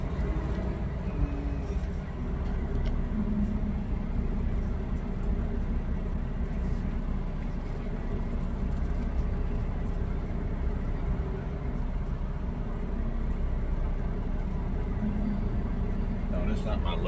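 Continuous low rumbling drone of a truck cab while the truck is driven and parked beside a trailer, steady throughout with a person talking over it.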